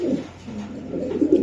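A black pied racing pigeon coos close by in a low, soft, rolling murmur that swells twice over a second and a half, with no voices.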